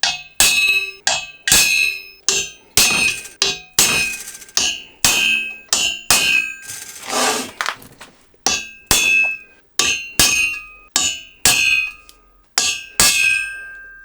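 A hammer strikes a center punch on metal in a workshop to mark drill holes, giving sharp ringing clangs in an irregular series of single and double blows with short pauses between.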